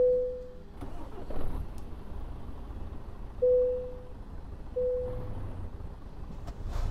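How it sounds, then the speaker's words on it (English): A truck engine in Euro Truck Simulator 2, running with a malfunction, cranks and starts in repeated attempts, each burst followed by a low steady idle rumble alongside short tonal dashboard beeps. "So start the engine back up."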